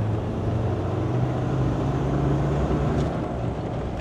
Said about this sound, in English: It can work as a small turbo at the bottom end of the rev range